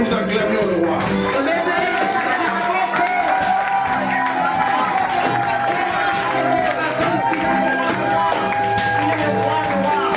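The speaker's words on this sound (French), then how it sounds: "je voudrais que nous acclamions le roi" A church congregation acclaims and cheers in unison, a loud, sustained crowd roar with shouts and whoops layered over music, continuing throughout.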